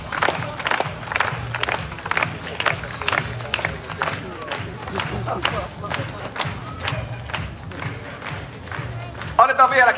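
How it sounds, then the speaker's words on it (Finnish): A city-centre crowd celebrating the Susijengi basketball team at a EuroBasket 2025 gathering in Tampere claps and cheers, with thumping beats and shouting voices over a continuous roar that swells at the end. "Annetaan vielä kerran raikuvat aplodit meidän oma Susijengi!"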